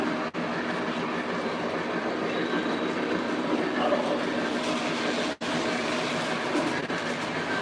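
An MTH model streetcar runs on a toy train layout, giving a steady, close rolling rumble with faint track clatter throughout and a couple of brief dropouts.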